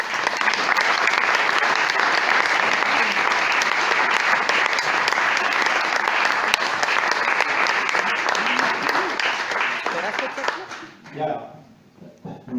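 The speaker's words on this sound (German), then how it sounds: "Bitte begrüßen Sie mit Applaus" Comedy show audience applauding to welcome a comedian onstage, a dense, loud, sustained clapping from a full room that dies away near the end as a voice begins speaking.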